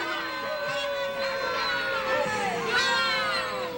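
Rowdy crowd noise in a radio comedy sketch, a steady wall of shouting and jeering voices with rising whoops and hollers that swell loudest near the end.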